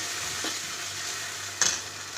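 Tomato pieces for a drumstick curry are stirred into hot oil in a pan, giving a steady soft sizzle with a brief scrape of the spoon, close and quiet.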